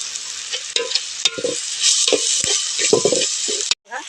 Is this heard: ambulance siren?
no